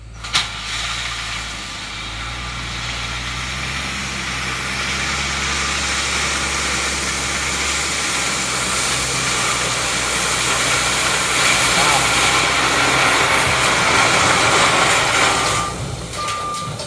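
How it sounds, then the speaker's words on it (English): A heavy equipment engine running steadily while laying extra rock on a wet corner of a house pad, with reversing beeps sounding and the engine rumbling continuously throughout, fairly loud and close, no talk. "He's laying some extra rock on that wet corner as we speak."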